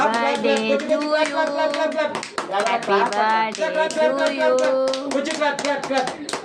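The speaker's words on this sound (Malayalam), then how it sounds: "clap clap clap clap" A group claps in steady rhythm at a birthday cake cutting, with the claps close and lively under voices chanting and singing along the whole time.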